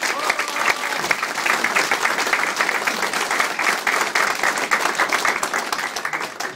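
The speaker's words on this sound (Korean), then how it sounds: "선대위원회의 어려운 직위를 수락해 주신 모든 분들에게 다시 한번 뜨거운 박수 좀 부탁드립니다" A large audience at the opening of Kim Kyung-soo's election campaign office in Gimhae claps warmly, a loud, continuous, busy rattle of many hands with some individually distinct claps, sustained without letup.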